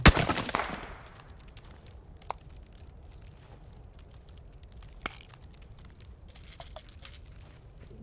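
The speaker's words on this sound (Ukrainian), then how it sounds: "А, вже по мені стріляють теж." Gunfire aimed at the player in a PUBG duo match on Erangel: an opening burst of loud shots, then sparse sharp cracks near 2.3 and 5 seconds, distant and isolated over a low ambient rumble.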